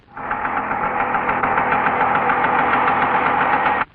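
A scooter engine runs steadily in a movie scene, a loud, even mid-pitched drone that starts abruptly and cuts off just before the end, with no talk over it.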